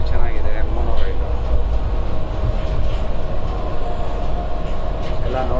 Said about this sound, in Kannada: ನ್ಯಾನೋ ರೈಲಲ್ಲಿ ಈಗ ಮೋನೋ ರೈಲಲ್ಲಿ ಎಷ್ಟು ಚೆನ್ನಾಗಿದೆ ಮೋನೋ ರೈಲು